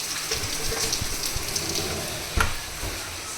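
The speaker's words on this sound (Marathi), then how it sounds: "बघा पाऊस." Steady rain falls outside a window, a soft continuous patter with a louder drip or splash near the middle, no voices.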